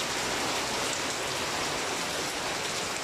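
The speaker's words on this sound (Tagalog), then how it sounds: "ang lakas ng ulan ngayon" Heavy rain pouring steadily, a dense, loud, even hiss of drops on surfaces with no pauses or voices.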